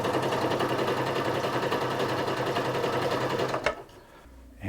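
A Singer Quantum Stylist 9960 sewing machine sewing a stretch stitch runs as a steady, rapid mechanical whirring and clatter, close up, then stops abruptly near the end.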